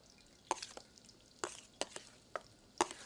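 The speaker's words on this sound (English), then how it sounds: "While I'm waiting on them, it gives me a moment to get these all stirred and coated" Mackerel tidbits being stirred and coated in batter, a handful of short, distinct scraping clinks at irregular intervals over a quiet background, close and fairly soft, with no talking.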